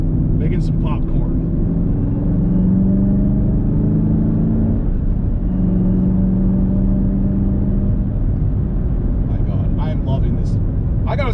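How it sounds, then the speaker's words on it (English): A 2021 Chevrolet Camaro ZL1 1LE sports car rumbles steadily from its exhaust while driving, a loud, continuous low drone with slight pitch swells, with brief crackles near the start and end. "the exhaust, making all the right noises back there"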